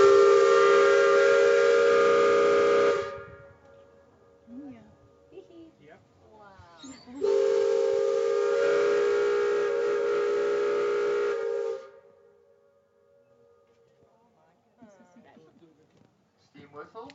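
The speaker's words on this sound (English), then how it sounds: "Steam whistles, such as this one, can be heard up to 10 miles away" A narrow gauge railroad steam whistle on the Cripple Creek & Victor line blows two long, loud chord-like blasts, each followed by quieter echoes and a voice speaking between them.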